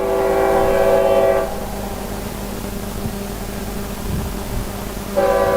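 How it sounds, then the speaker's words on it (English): Train horns sound in the distance during an outdoor cricket match, one long blast at the start and another returning at the end, over steady open-air noise. "we hear the horns probably in the background"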